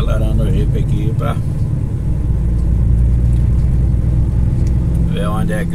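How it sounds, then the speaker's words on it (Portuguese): A Jeep accelerates along a road near Vila Rica in the Xingu valley. A steady low engine rumble and road noise run close and constant, with voices talking over it at the start and end. "vamos acelerando o Jeep aqui"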